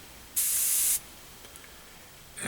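A short burst of hissing air from a double-action airbrush with a sticking trigger, steady for about half a second and then cut off, followed by quiet and a faint start of another hiss.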